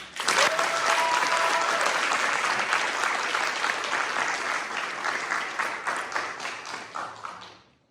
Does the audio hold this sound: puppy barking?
no